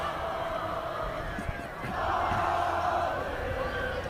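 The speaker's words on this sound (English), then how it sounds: "this Westlake crowd getting back into it" A crowd at a Westlake high school football game swells into a roar and sustained cheering after a quieter murmur, heard from a distance under a commentator's voice.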